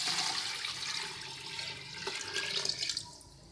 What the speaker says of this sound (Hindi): तकरीबन 8 गिलास हम इसमें पानी के डालेंगे